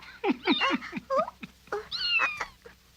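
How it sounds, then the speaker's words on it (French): A cat meows repeatedly in a quick series of short, rising and falling cries, some drawn out into a plaintive wail, fairly close and clear with no talk over it. "C'est le chat qui miaule."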